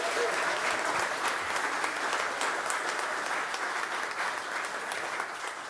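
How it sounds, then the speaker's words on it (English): A church congregation at a Unitarian flower communion service in Littleton, Massachusetts applauds, a dense, even roar of clapping that stays loud and steady throughout before easing slightly toward the end. "I think a round of applause is definitely in order."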